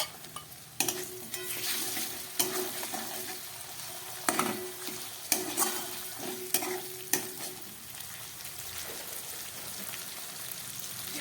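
Onion and tomato frying in a pan for a prawn and potato curry, a constant loud sizzle with repeated spatula scrapes and stirring knocks, then a steadier hiss toward the end.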